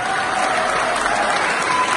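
Sustained applause from a standing concert audience in a university hall in Oxford welcoming the performer, steady dense clapping throughout with faint crowd murmur and no gaps.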